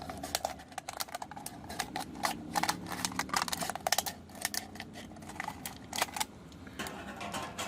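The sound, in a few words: cutting the bottom off a plastic bottle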